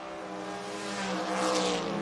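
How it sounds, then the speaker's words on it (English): At a footbrake drag race, a 1970 Chevrolet Nova and a Chevelle launch off the line, with loud, steady engine roar swelling over two seconds. "Duncan, the 70 Nova dialed 718, going to take on Jake Nar Chevelle dialed in 535"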